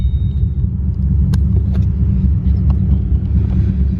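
Ford Mustang engine fitted with long tube headers cruising on a street, a loud, steady deep exhaust rumble throughout with a few faint clicks and knocks over the top.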